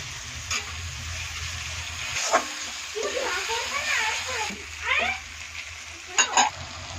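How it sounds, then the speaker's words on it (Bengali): Onions frying in a pan as tomatoes and garlic are added, soft sizzling with stirring and scraping bursts, while someone speaks over the cooking. "দেখুন পেঁয়াজটা লাল লাল করে ভাজা হয়ে গেছে।"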